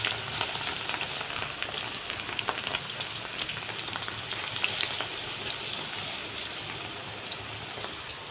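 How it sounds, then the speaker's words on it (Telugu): Cabbage pieces for pakoda fry in hot oil, a steady crackling sizzle with scattered pops running throughout, moderately close and continuous, with no voices. "ఆయిల్ వేడెక్కింది ఇప్పుడు మనం క్యాబేజీని ఆయిల్లో వేద్దాం"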